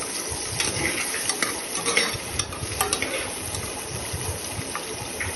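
Lengthwise-sliced onions fry in a pan for veg biryani, a dense steady sizzle broken by repeated spatula scrapes and clinks as they are stirred, close and fairly loud with no talking.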